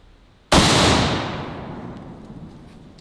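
A single sharp Mosin Nagant rifle shot, fired outdoors with the bayonet fixed, bursts loud and close, then rolls off into a long fading echo.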